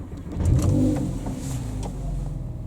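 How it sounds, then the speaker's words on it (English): A Porsche engine starts with a quick crank that catches into a steady idle close by, the rise in engine noise settling to an even hum. "start the engine"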